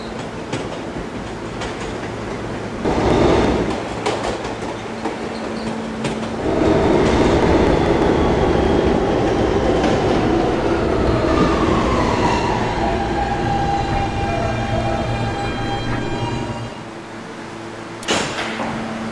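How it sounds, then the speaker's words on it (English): A New York subway K train rumbles along the tracks toward Herald Square with steady rolling noise, rising squeals and rhythmic clatter, heard from inside the car, with a stop announcement. "This is a Calhoun bound K train."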